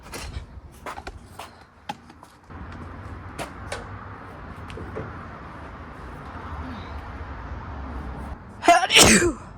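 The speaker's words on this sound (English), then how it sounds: "Gosh, it's so dusty I can't stop sneezing." A single loud, sharp sneeze bursts out near the end after a stretch of quiet rustling and faint shuffling sounds, inside a dusty Ford Falcon while trim and headliner are being removed.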